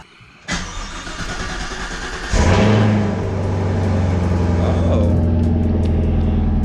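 A car engine in cold Michigan weather cranks for a long stretch with a rapid starter chatter, then catches with a loud surge and settles into a steady, rough idle, close by.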